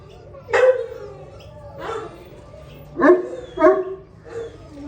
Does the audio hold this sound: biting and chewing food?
no